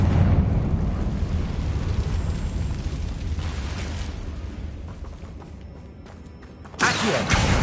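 Confringo blasting spell explosion in Hogwarts Legacy, a loud rumbling blast that fades over several seconds before a second sharp burst near the end.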